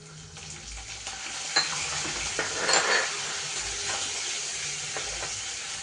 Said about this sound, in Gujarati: પછી આપણે આ જે લીમડો અને મરચાં જે સમારેલા છે એ નાખી દઈએ